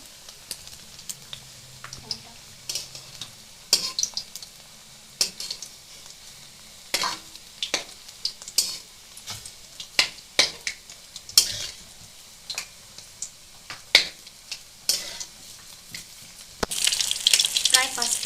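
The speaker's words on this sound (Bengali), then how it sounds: "তো আমি প্রায় এক একটা ব্যাচ 5 থেকে 6 মিনিট মতো ভালো করে উল্টে পাল্টে ভেজে নেব" Chicken pakora fries in a batch of hot oil and is turned over repeatedly, giving a steady close sizzle with scattered clicks and clatter from stirring. A louder burst of sizzling comes near the end; no one speaks.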